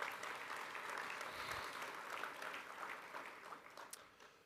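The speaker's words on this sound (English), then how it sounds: "Let's give them another round of applause." Audience applause at a general session of an annual conference fills the room, a dense steady clapping from a large crowd heard at a moderate distance and gradually thinning toward the end.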